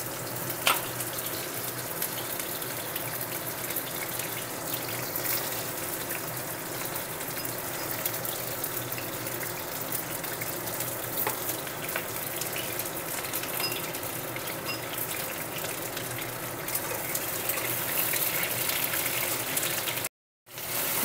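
Cut ridge gourds fry in hot mustard oil, giving a dense, continuous sizzle that holds steady at close range before cutting out briefly near the end.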